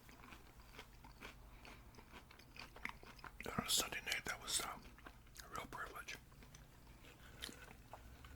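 Crunchy bites of spicy extra crispy fried chicken from Lee's Famous Recipe, close and crisp, with several loud crackling bites and chewing, while someone speaks softly in a whisper.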